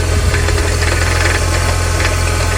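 A 2002 Mini Cooper engine runs with a steady rattling knock and a busy mechanical clatter close by, continuous and fairly loud throughout.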